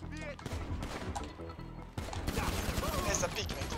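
Gunshots ring out in a video game, first as scattered pops and then as a denser burst of firing near the end. Chatter and game voices run beneath them throughout.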